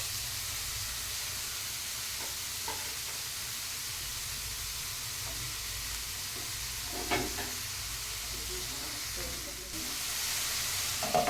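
Cabbage and capsicum sizzle steadily in a pan for a chicken salad, a continuous hiss with occasional soft stirring scrapes, close and even throughout.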